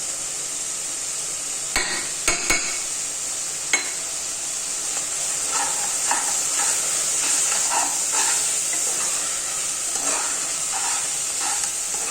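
Tomato masala with ginger and coriander powder fries with a loud, steady hiss and sizzle, broken by a few sharp metallic knocks early on and softer stirring scrapes later.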